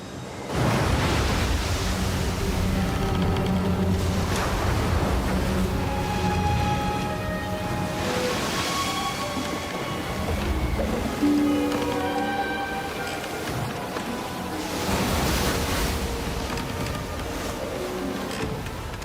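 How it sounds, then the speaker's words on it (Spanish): Rough sea churns under strong wind, a dense, continuous roar of surf and gusts that holds loud and steady throughout, with swells rising and falling in intensity. "el mar estaba agitado porque soplaba un fuerte viento"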